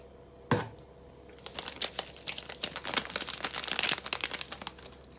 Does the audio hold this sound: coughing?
no